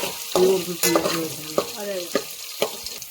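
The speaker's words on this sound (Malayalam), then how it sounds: "ഇഞ്ചി വെളുത്തുള്ളി കൊടുക്കാം നന്നായിട്ടൊന്ന് വെച്ചെടുക്കാം കരിയാതിരിക്കാൻ ശ്രമിക്കുക" Ginger and garlic stirred in a hot pan, a steady sizzle and frying hiss broken by several scraping stir strokes, close and fairly loud, with no voices.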